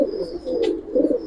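A male pigeon coos in short, low, throaty pulses up close, two soft swells of cooing with a faint high whine in the background.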